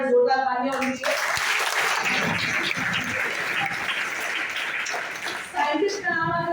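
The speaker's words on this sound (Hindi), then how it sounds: "हमारे साइंटिस्ट पैनल इनके लिए पर जोरदार तालियां होनी चाहिए" Audience applause for a scientist panel at a business-plan meeting in Dombivali, a dense burst of many hands clapping that swells in after a short stretch of talk and runs steadily for several seconds before voices return.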